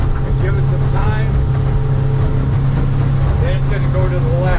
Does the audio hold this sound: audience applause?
no